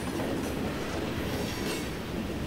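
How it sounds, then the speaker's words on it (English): Canadian Pacific Train 459, a manifest freight running from Enola, Pennsylvania to Binghamton, New York, rolls steadily past nearby with a continuous loud rumble of railcars and a clickety-clack of wheels, with no voices. "this train is the Canadian Pacific Train 459, one of only two that I would ever catch"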